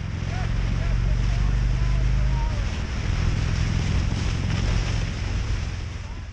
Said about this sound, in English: I am talking about the wind. It was very windy.